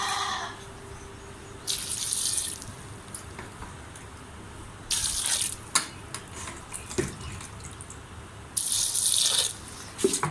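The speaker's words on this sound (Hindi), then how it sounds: "थोड़ा सा पानी डाल दें।" Water from a tap is poured in short bursts into a pressure cooker holding chickpeas, three hissing splashing pours separated by quieter kitchen background with a few light clinks.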